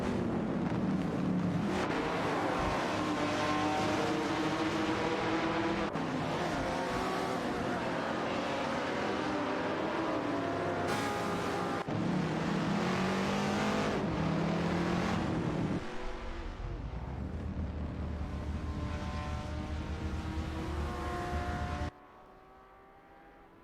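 Racing engines in a video game drone and rev continuously as cars overtake one another, with shifting engine pitches layered together before the sound drops away near the end.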